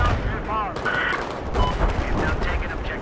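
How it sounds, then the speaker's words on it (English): Battlefield 4 gunfire on the Pearl Market close-quarters map, a dense continuous rattle of automatic shots close by, with other noise and faint voices mixed in. "I was putting down suppressive fire so they wouldn't pop their heads through again."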